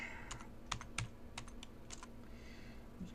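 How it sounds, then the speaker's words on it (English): Keystrokes on a computer keyboard arrive in irregular bursts of sharp clicks over a steady low hum, with no one talking. "I'm just going to type P."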